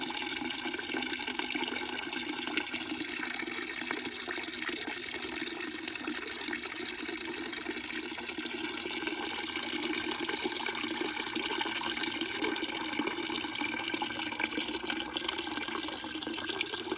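Running water in a village near the capital of Guyana, a steady splashing flow that holds at moderate level throughout without pause or talk.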